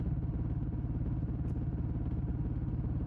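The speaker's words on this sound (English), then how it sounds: "The engine note stays low and steady." A motorcycle engine idles low and steady on a midnight ride, its dense rapid pulsing thrum running close and constant with no talk.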